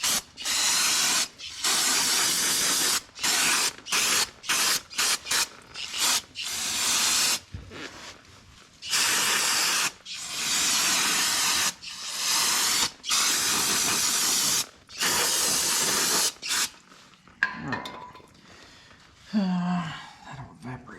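Brake cleaner sprayed onto the rear brake parts of a Yamaha Wolverine 350 ATV: repeated close, loud hissing bursts separated by short pauses, ending with some faint handling noise.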